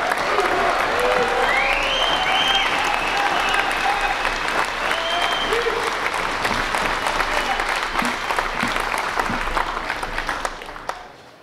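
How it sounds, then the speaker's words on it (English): A large audience of about a thousand Marines at a country club gives a sustained, loud round of applause with some crowd noise, continuing steadily for around ten seconds before tapering off at the end. "a very warm Marine Corps round of applause for Jim Moriarty"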